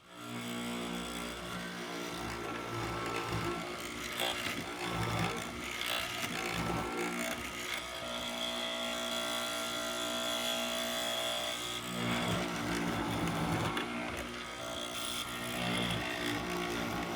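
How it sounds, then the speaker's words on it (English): A hollow chisel mortiser cuts a mortise in red oak with a 3/8 inch chisel, giving a steady, close motor hum with grinding, rasping bursts as the chisel bores into the wood, continuous throughout. "So I'll cut most of the mortise with the 3/8 inch chisel"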